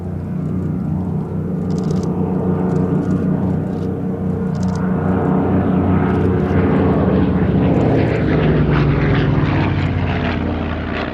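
A propeller aircraft taxies at the Shuttleworth air show, its engine a steady, loud, close drone with a rich hum that holds throughout and shifts in pitch slightly near the end, with no voices.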